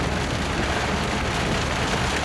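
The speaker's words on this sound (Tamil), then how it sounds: "இது ஒரு 5 நிமிஷம் தான் மழை பெய்யும்." Steady rain falling during a road trip from Chennai to Courtallam, a dense, even hiss of drops pattering on the car with no breaks and no talk.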